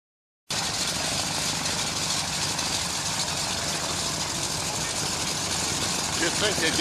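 B-29 bomber at an air show run by the Commemorative Air Force, its piston engines idling in a steady, loud, droning rumble that begins abruptly and holds evenly throughout.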